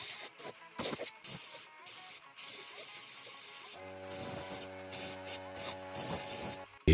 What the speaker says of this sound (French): Un petit coup de spray, quelques secondes de pause, puis je souffle un peu à l'air comprimé.